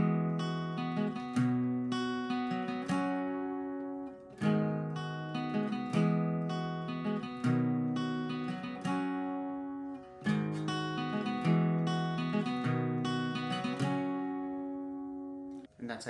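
Acoustic guitar plays the bridge of a song with rhythmic down strums, chords ringing and decaying in a steady repeating pattern, close and moderately quiet, with no talking.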